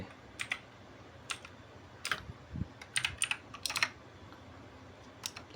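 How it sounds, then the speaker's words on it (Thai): Typing on a computer keyboard, heard as sparse, quiet clicks in short irregular bursts with brief pauses in between, close and alone with no talk. "ไปที่ Google พิมพ์ชื่อการ์ดจอลงไป"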